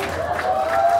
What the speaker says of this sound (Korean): 3조 들어오실 때 큰 박수 하겠습니다.